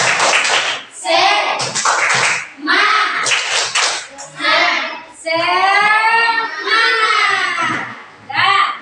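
Schoolchildren in a classroom perform a rhythmic spirit clap, chanting loudly in unison with bursts of claps between the sung phrases, the voices rising and falling in short groups.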